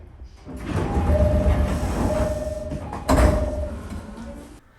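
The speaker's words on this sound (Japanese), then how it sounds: "列車は逗子駅に到着。" A JR East Yokosuka Line train arrives at Zushi Station with a loud, rumbling approach, a sustained motor whine carried over the rolling noise, and a heavy clunk near the end before the sound cuts off.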